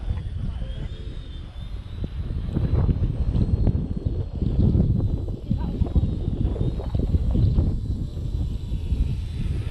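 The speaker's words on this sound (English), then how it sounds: "You can hear probably the wind on the microphone now." Gusting outdoor wind buffets the microphone with a heavy low rumble that rises and falls, while a small RC helicopter flies nearby on a windy day and its faint high whine sits underneath.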